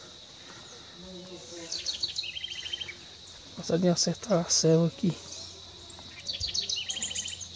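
Small birds chirp and tweet in short high bursts around a feeder stocked with papaya and banana in a wooded outdoor spot, with a steady insect drone underneath and someone speaking Portuguese over them.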